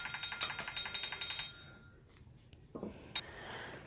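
A timer alarm goes off nearby during a dirty-pour painting session, a rapid run of repeated electronic beeps for over a second, followed by quiet rustling and a single later beep.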